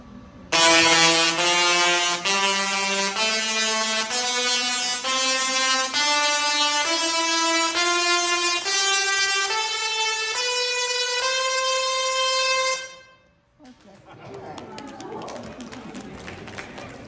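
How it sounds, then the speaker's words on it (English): Loud buzzing Tesla coil discharges at a science museum step upward in pitch as the sparks per second increase, a rising series of harsh tones, then cut off, followed by quieter noise and faint voices. "can you guys hear when the number of sparks per second changed on that Tesla coil"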